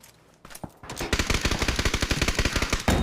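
A few scattered shots, then a sustained rapid burst of automatic gunfire in a video game, loud and close, with evenly spaced cracks.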